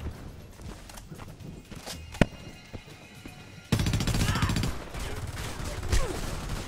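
Video game gunfire in the shooter Homefront: sparse shots early, then a dense sustained burst of automatic fire in the second half, loud and close.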